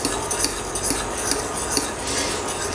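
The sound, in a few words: stirring in a saucepan with a fork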